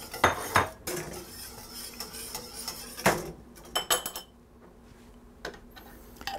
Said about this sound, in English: So now I'm just going to run the last of my broth in here, and that should do it.